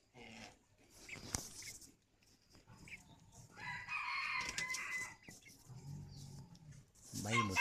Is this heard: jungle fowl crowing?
yes